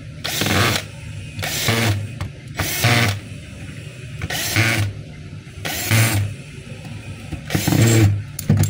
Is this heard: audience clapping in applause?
no